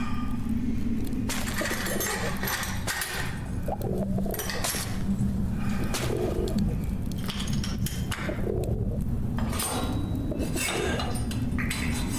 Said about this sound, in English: The first of the pigeons have already passed through.